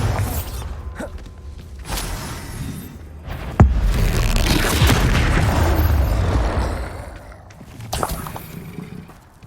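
A Bombarda blasting spell explodes in the Hogwarts Legacy video game, a heavy booming blast with rumbling, crackling debris that swells and slowly fades.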